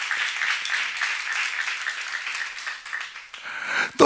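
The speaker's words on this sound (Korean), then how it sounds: "박수 한번 쳐봐." A church congregation claps together during a Korean sermon on Revelation, a steady, moderately distant patter of many hands. It thins slightly near the end before a sharp closing burst.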